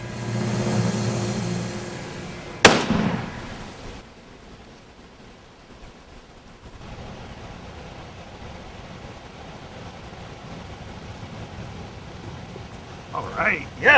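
A single sharp, loud gunshot rings out during an outdoor turkey hunt, followed by a quiet stretch of faint outdoor ambience.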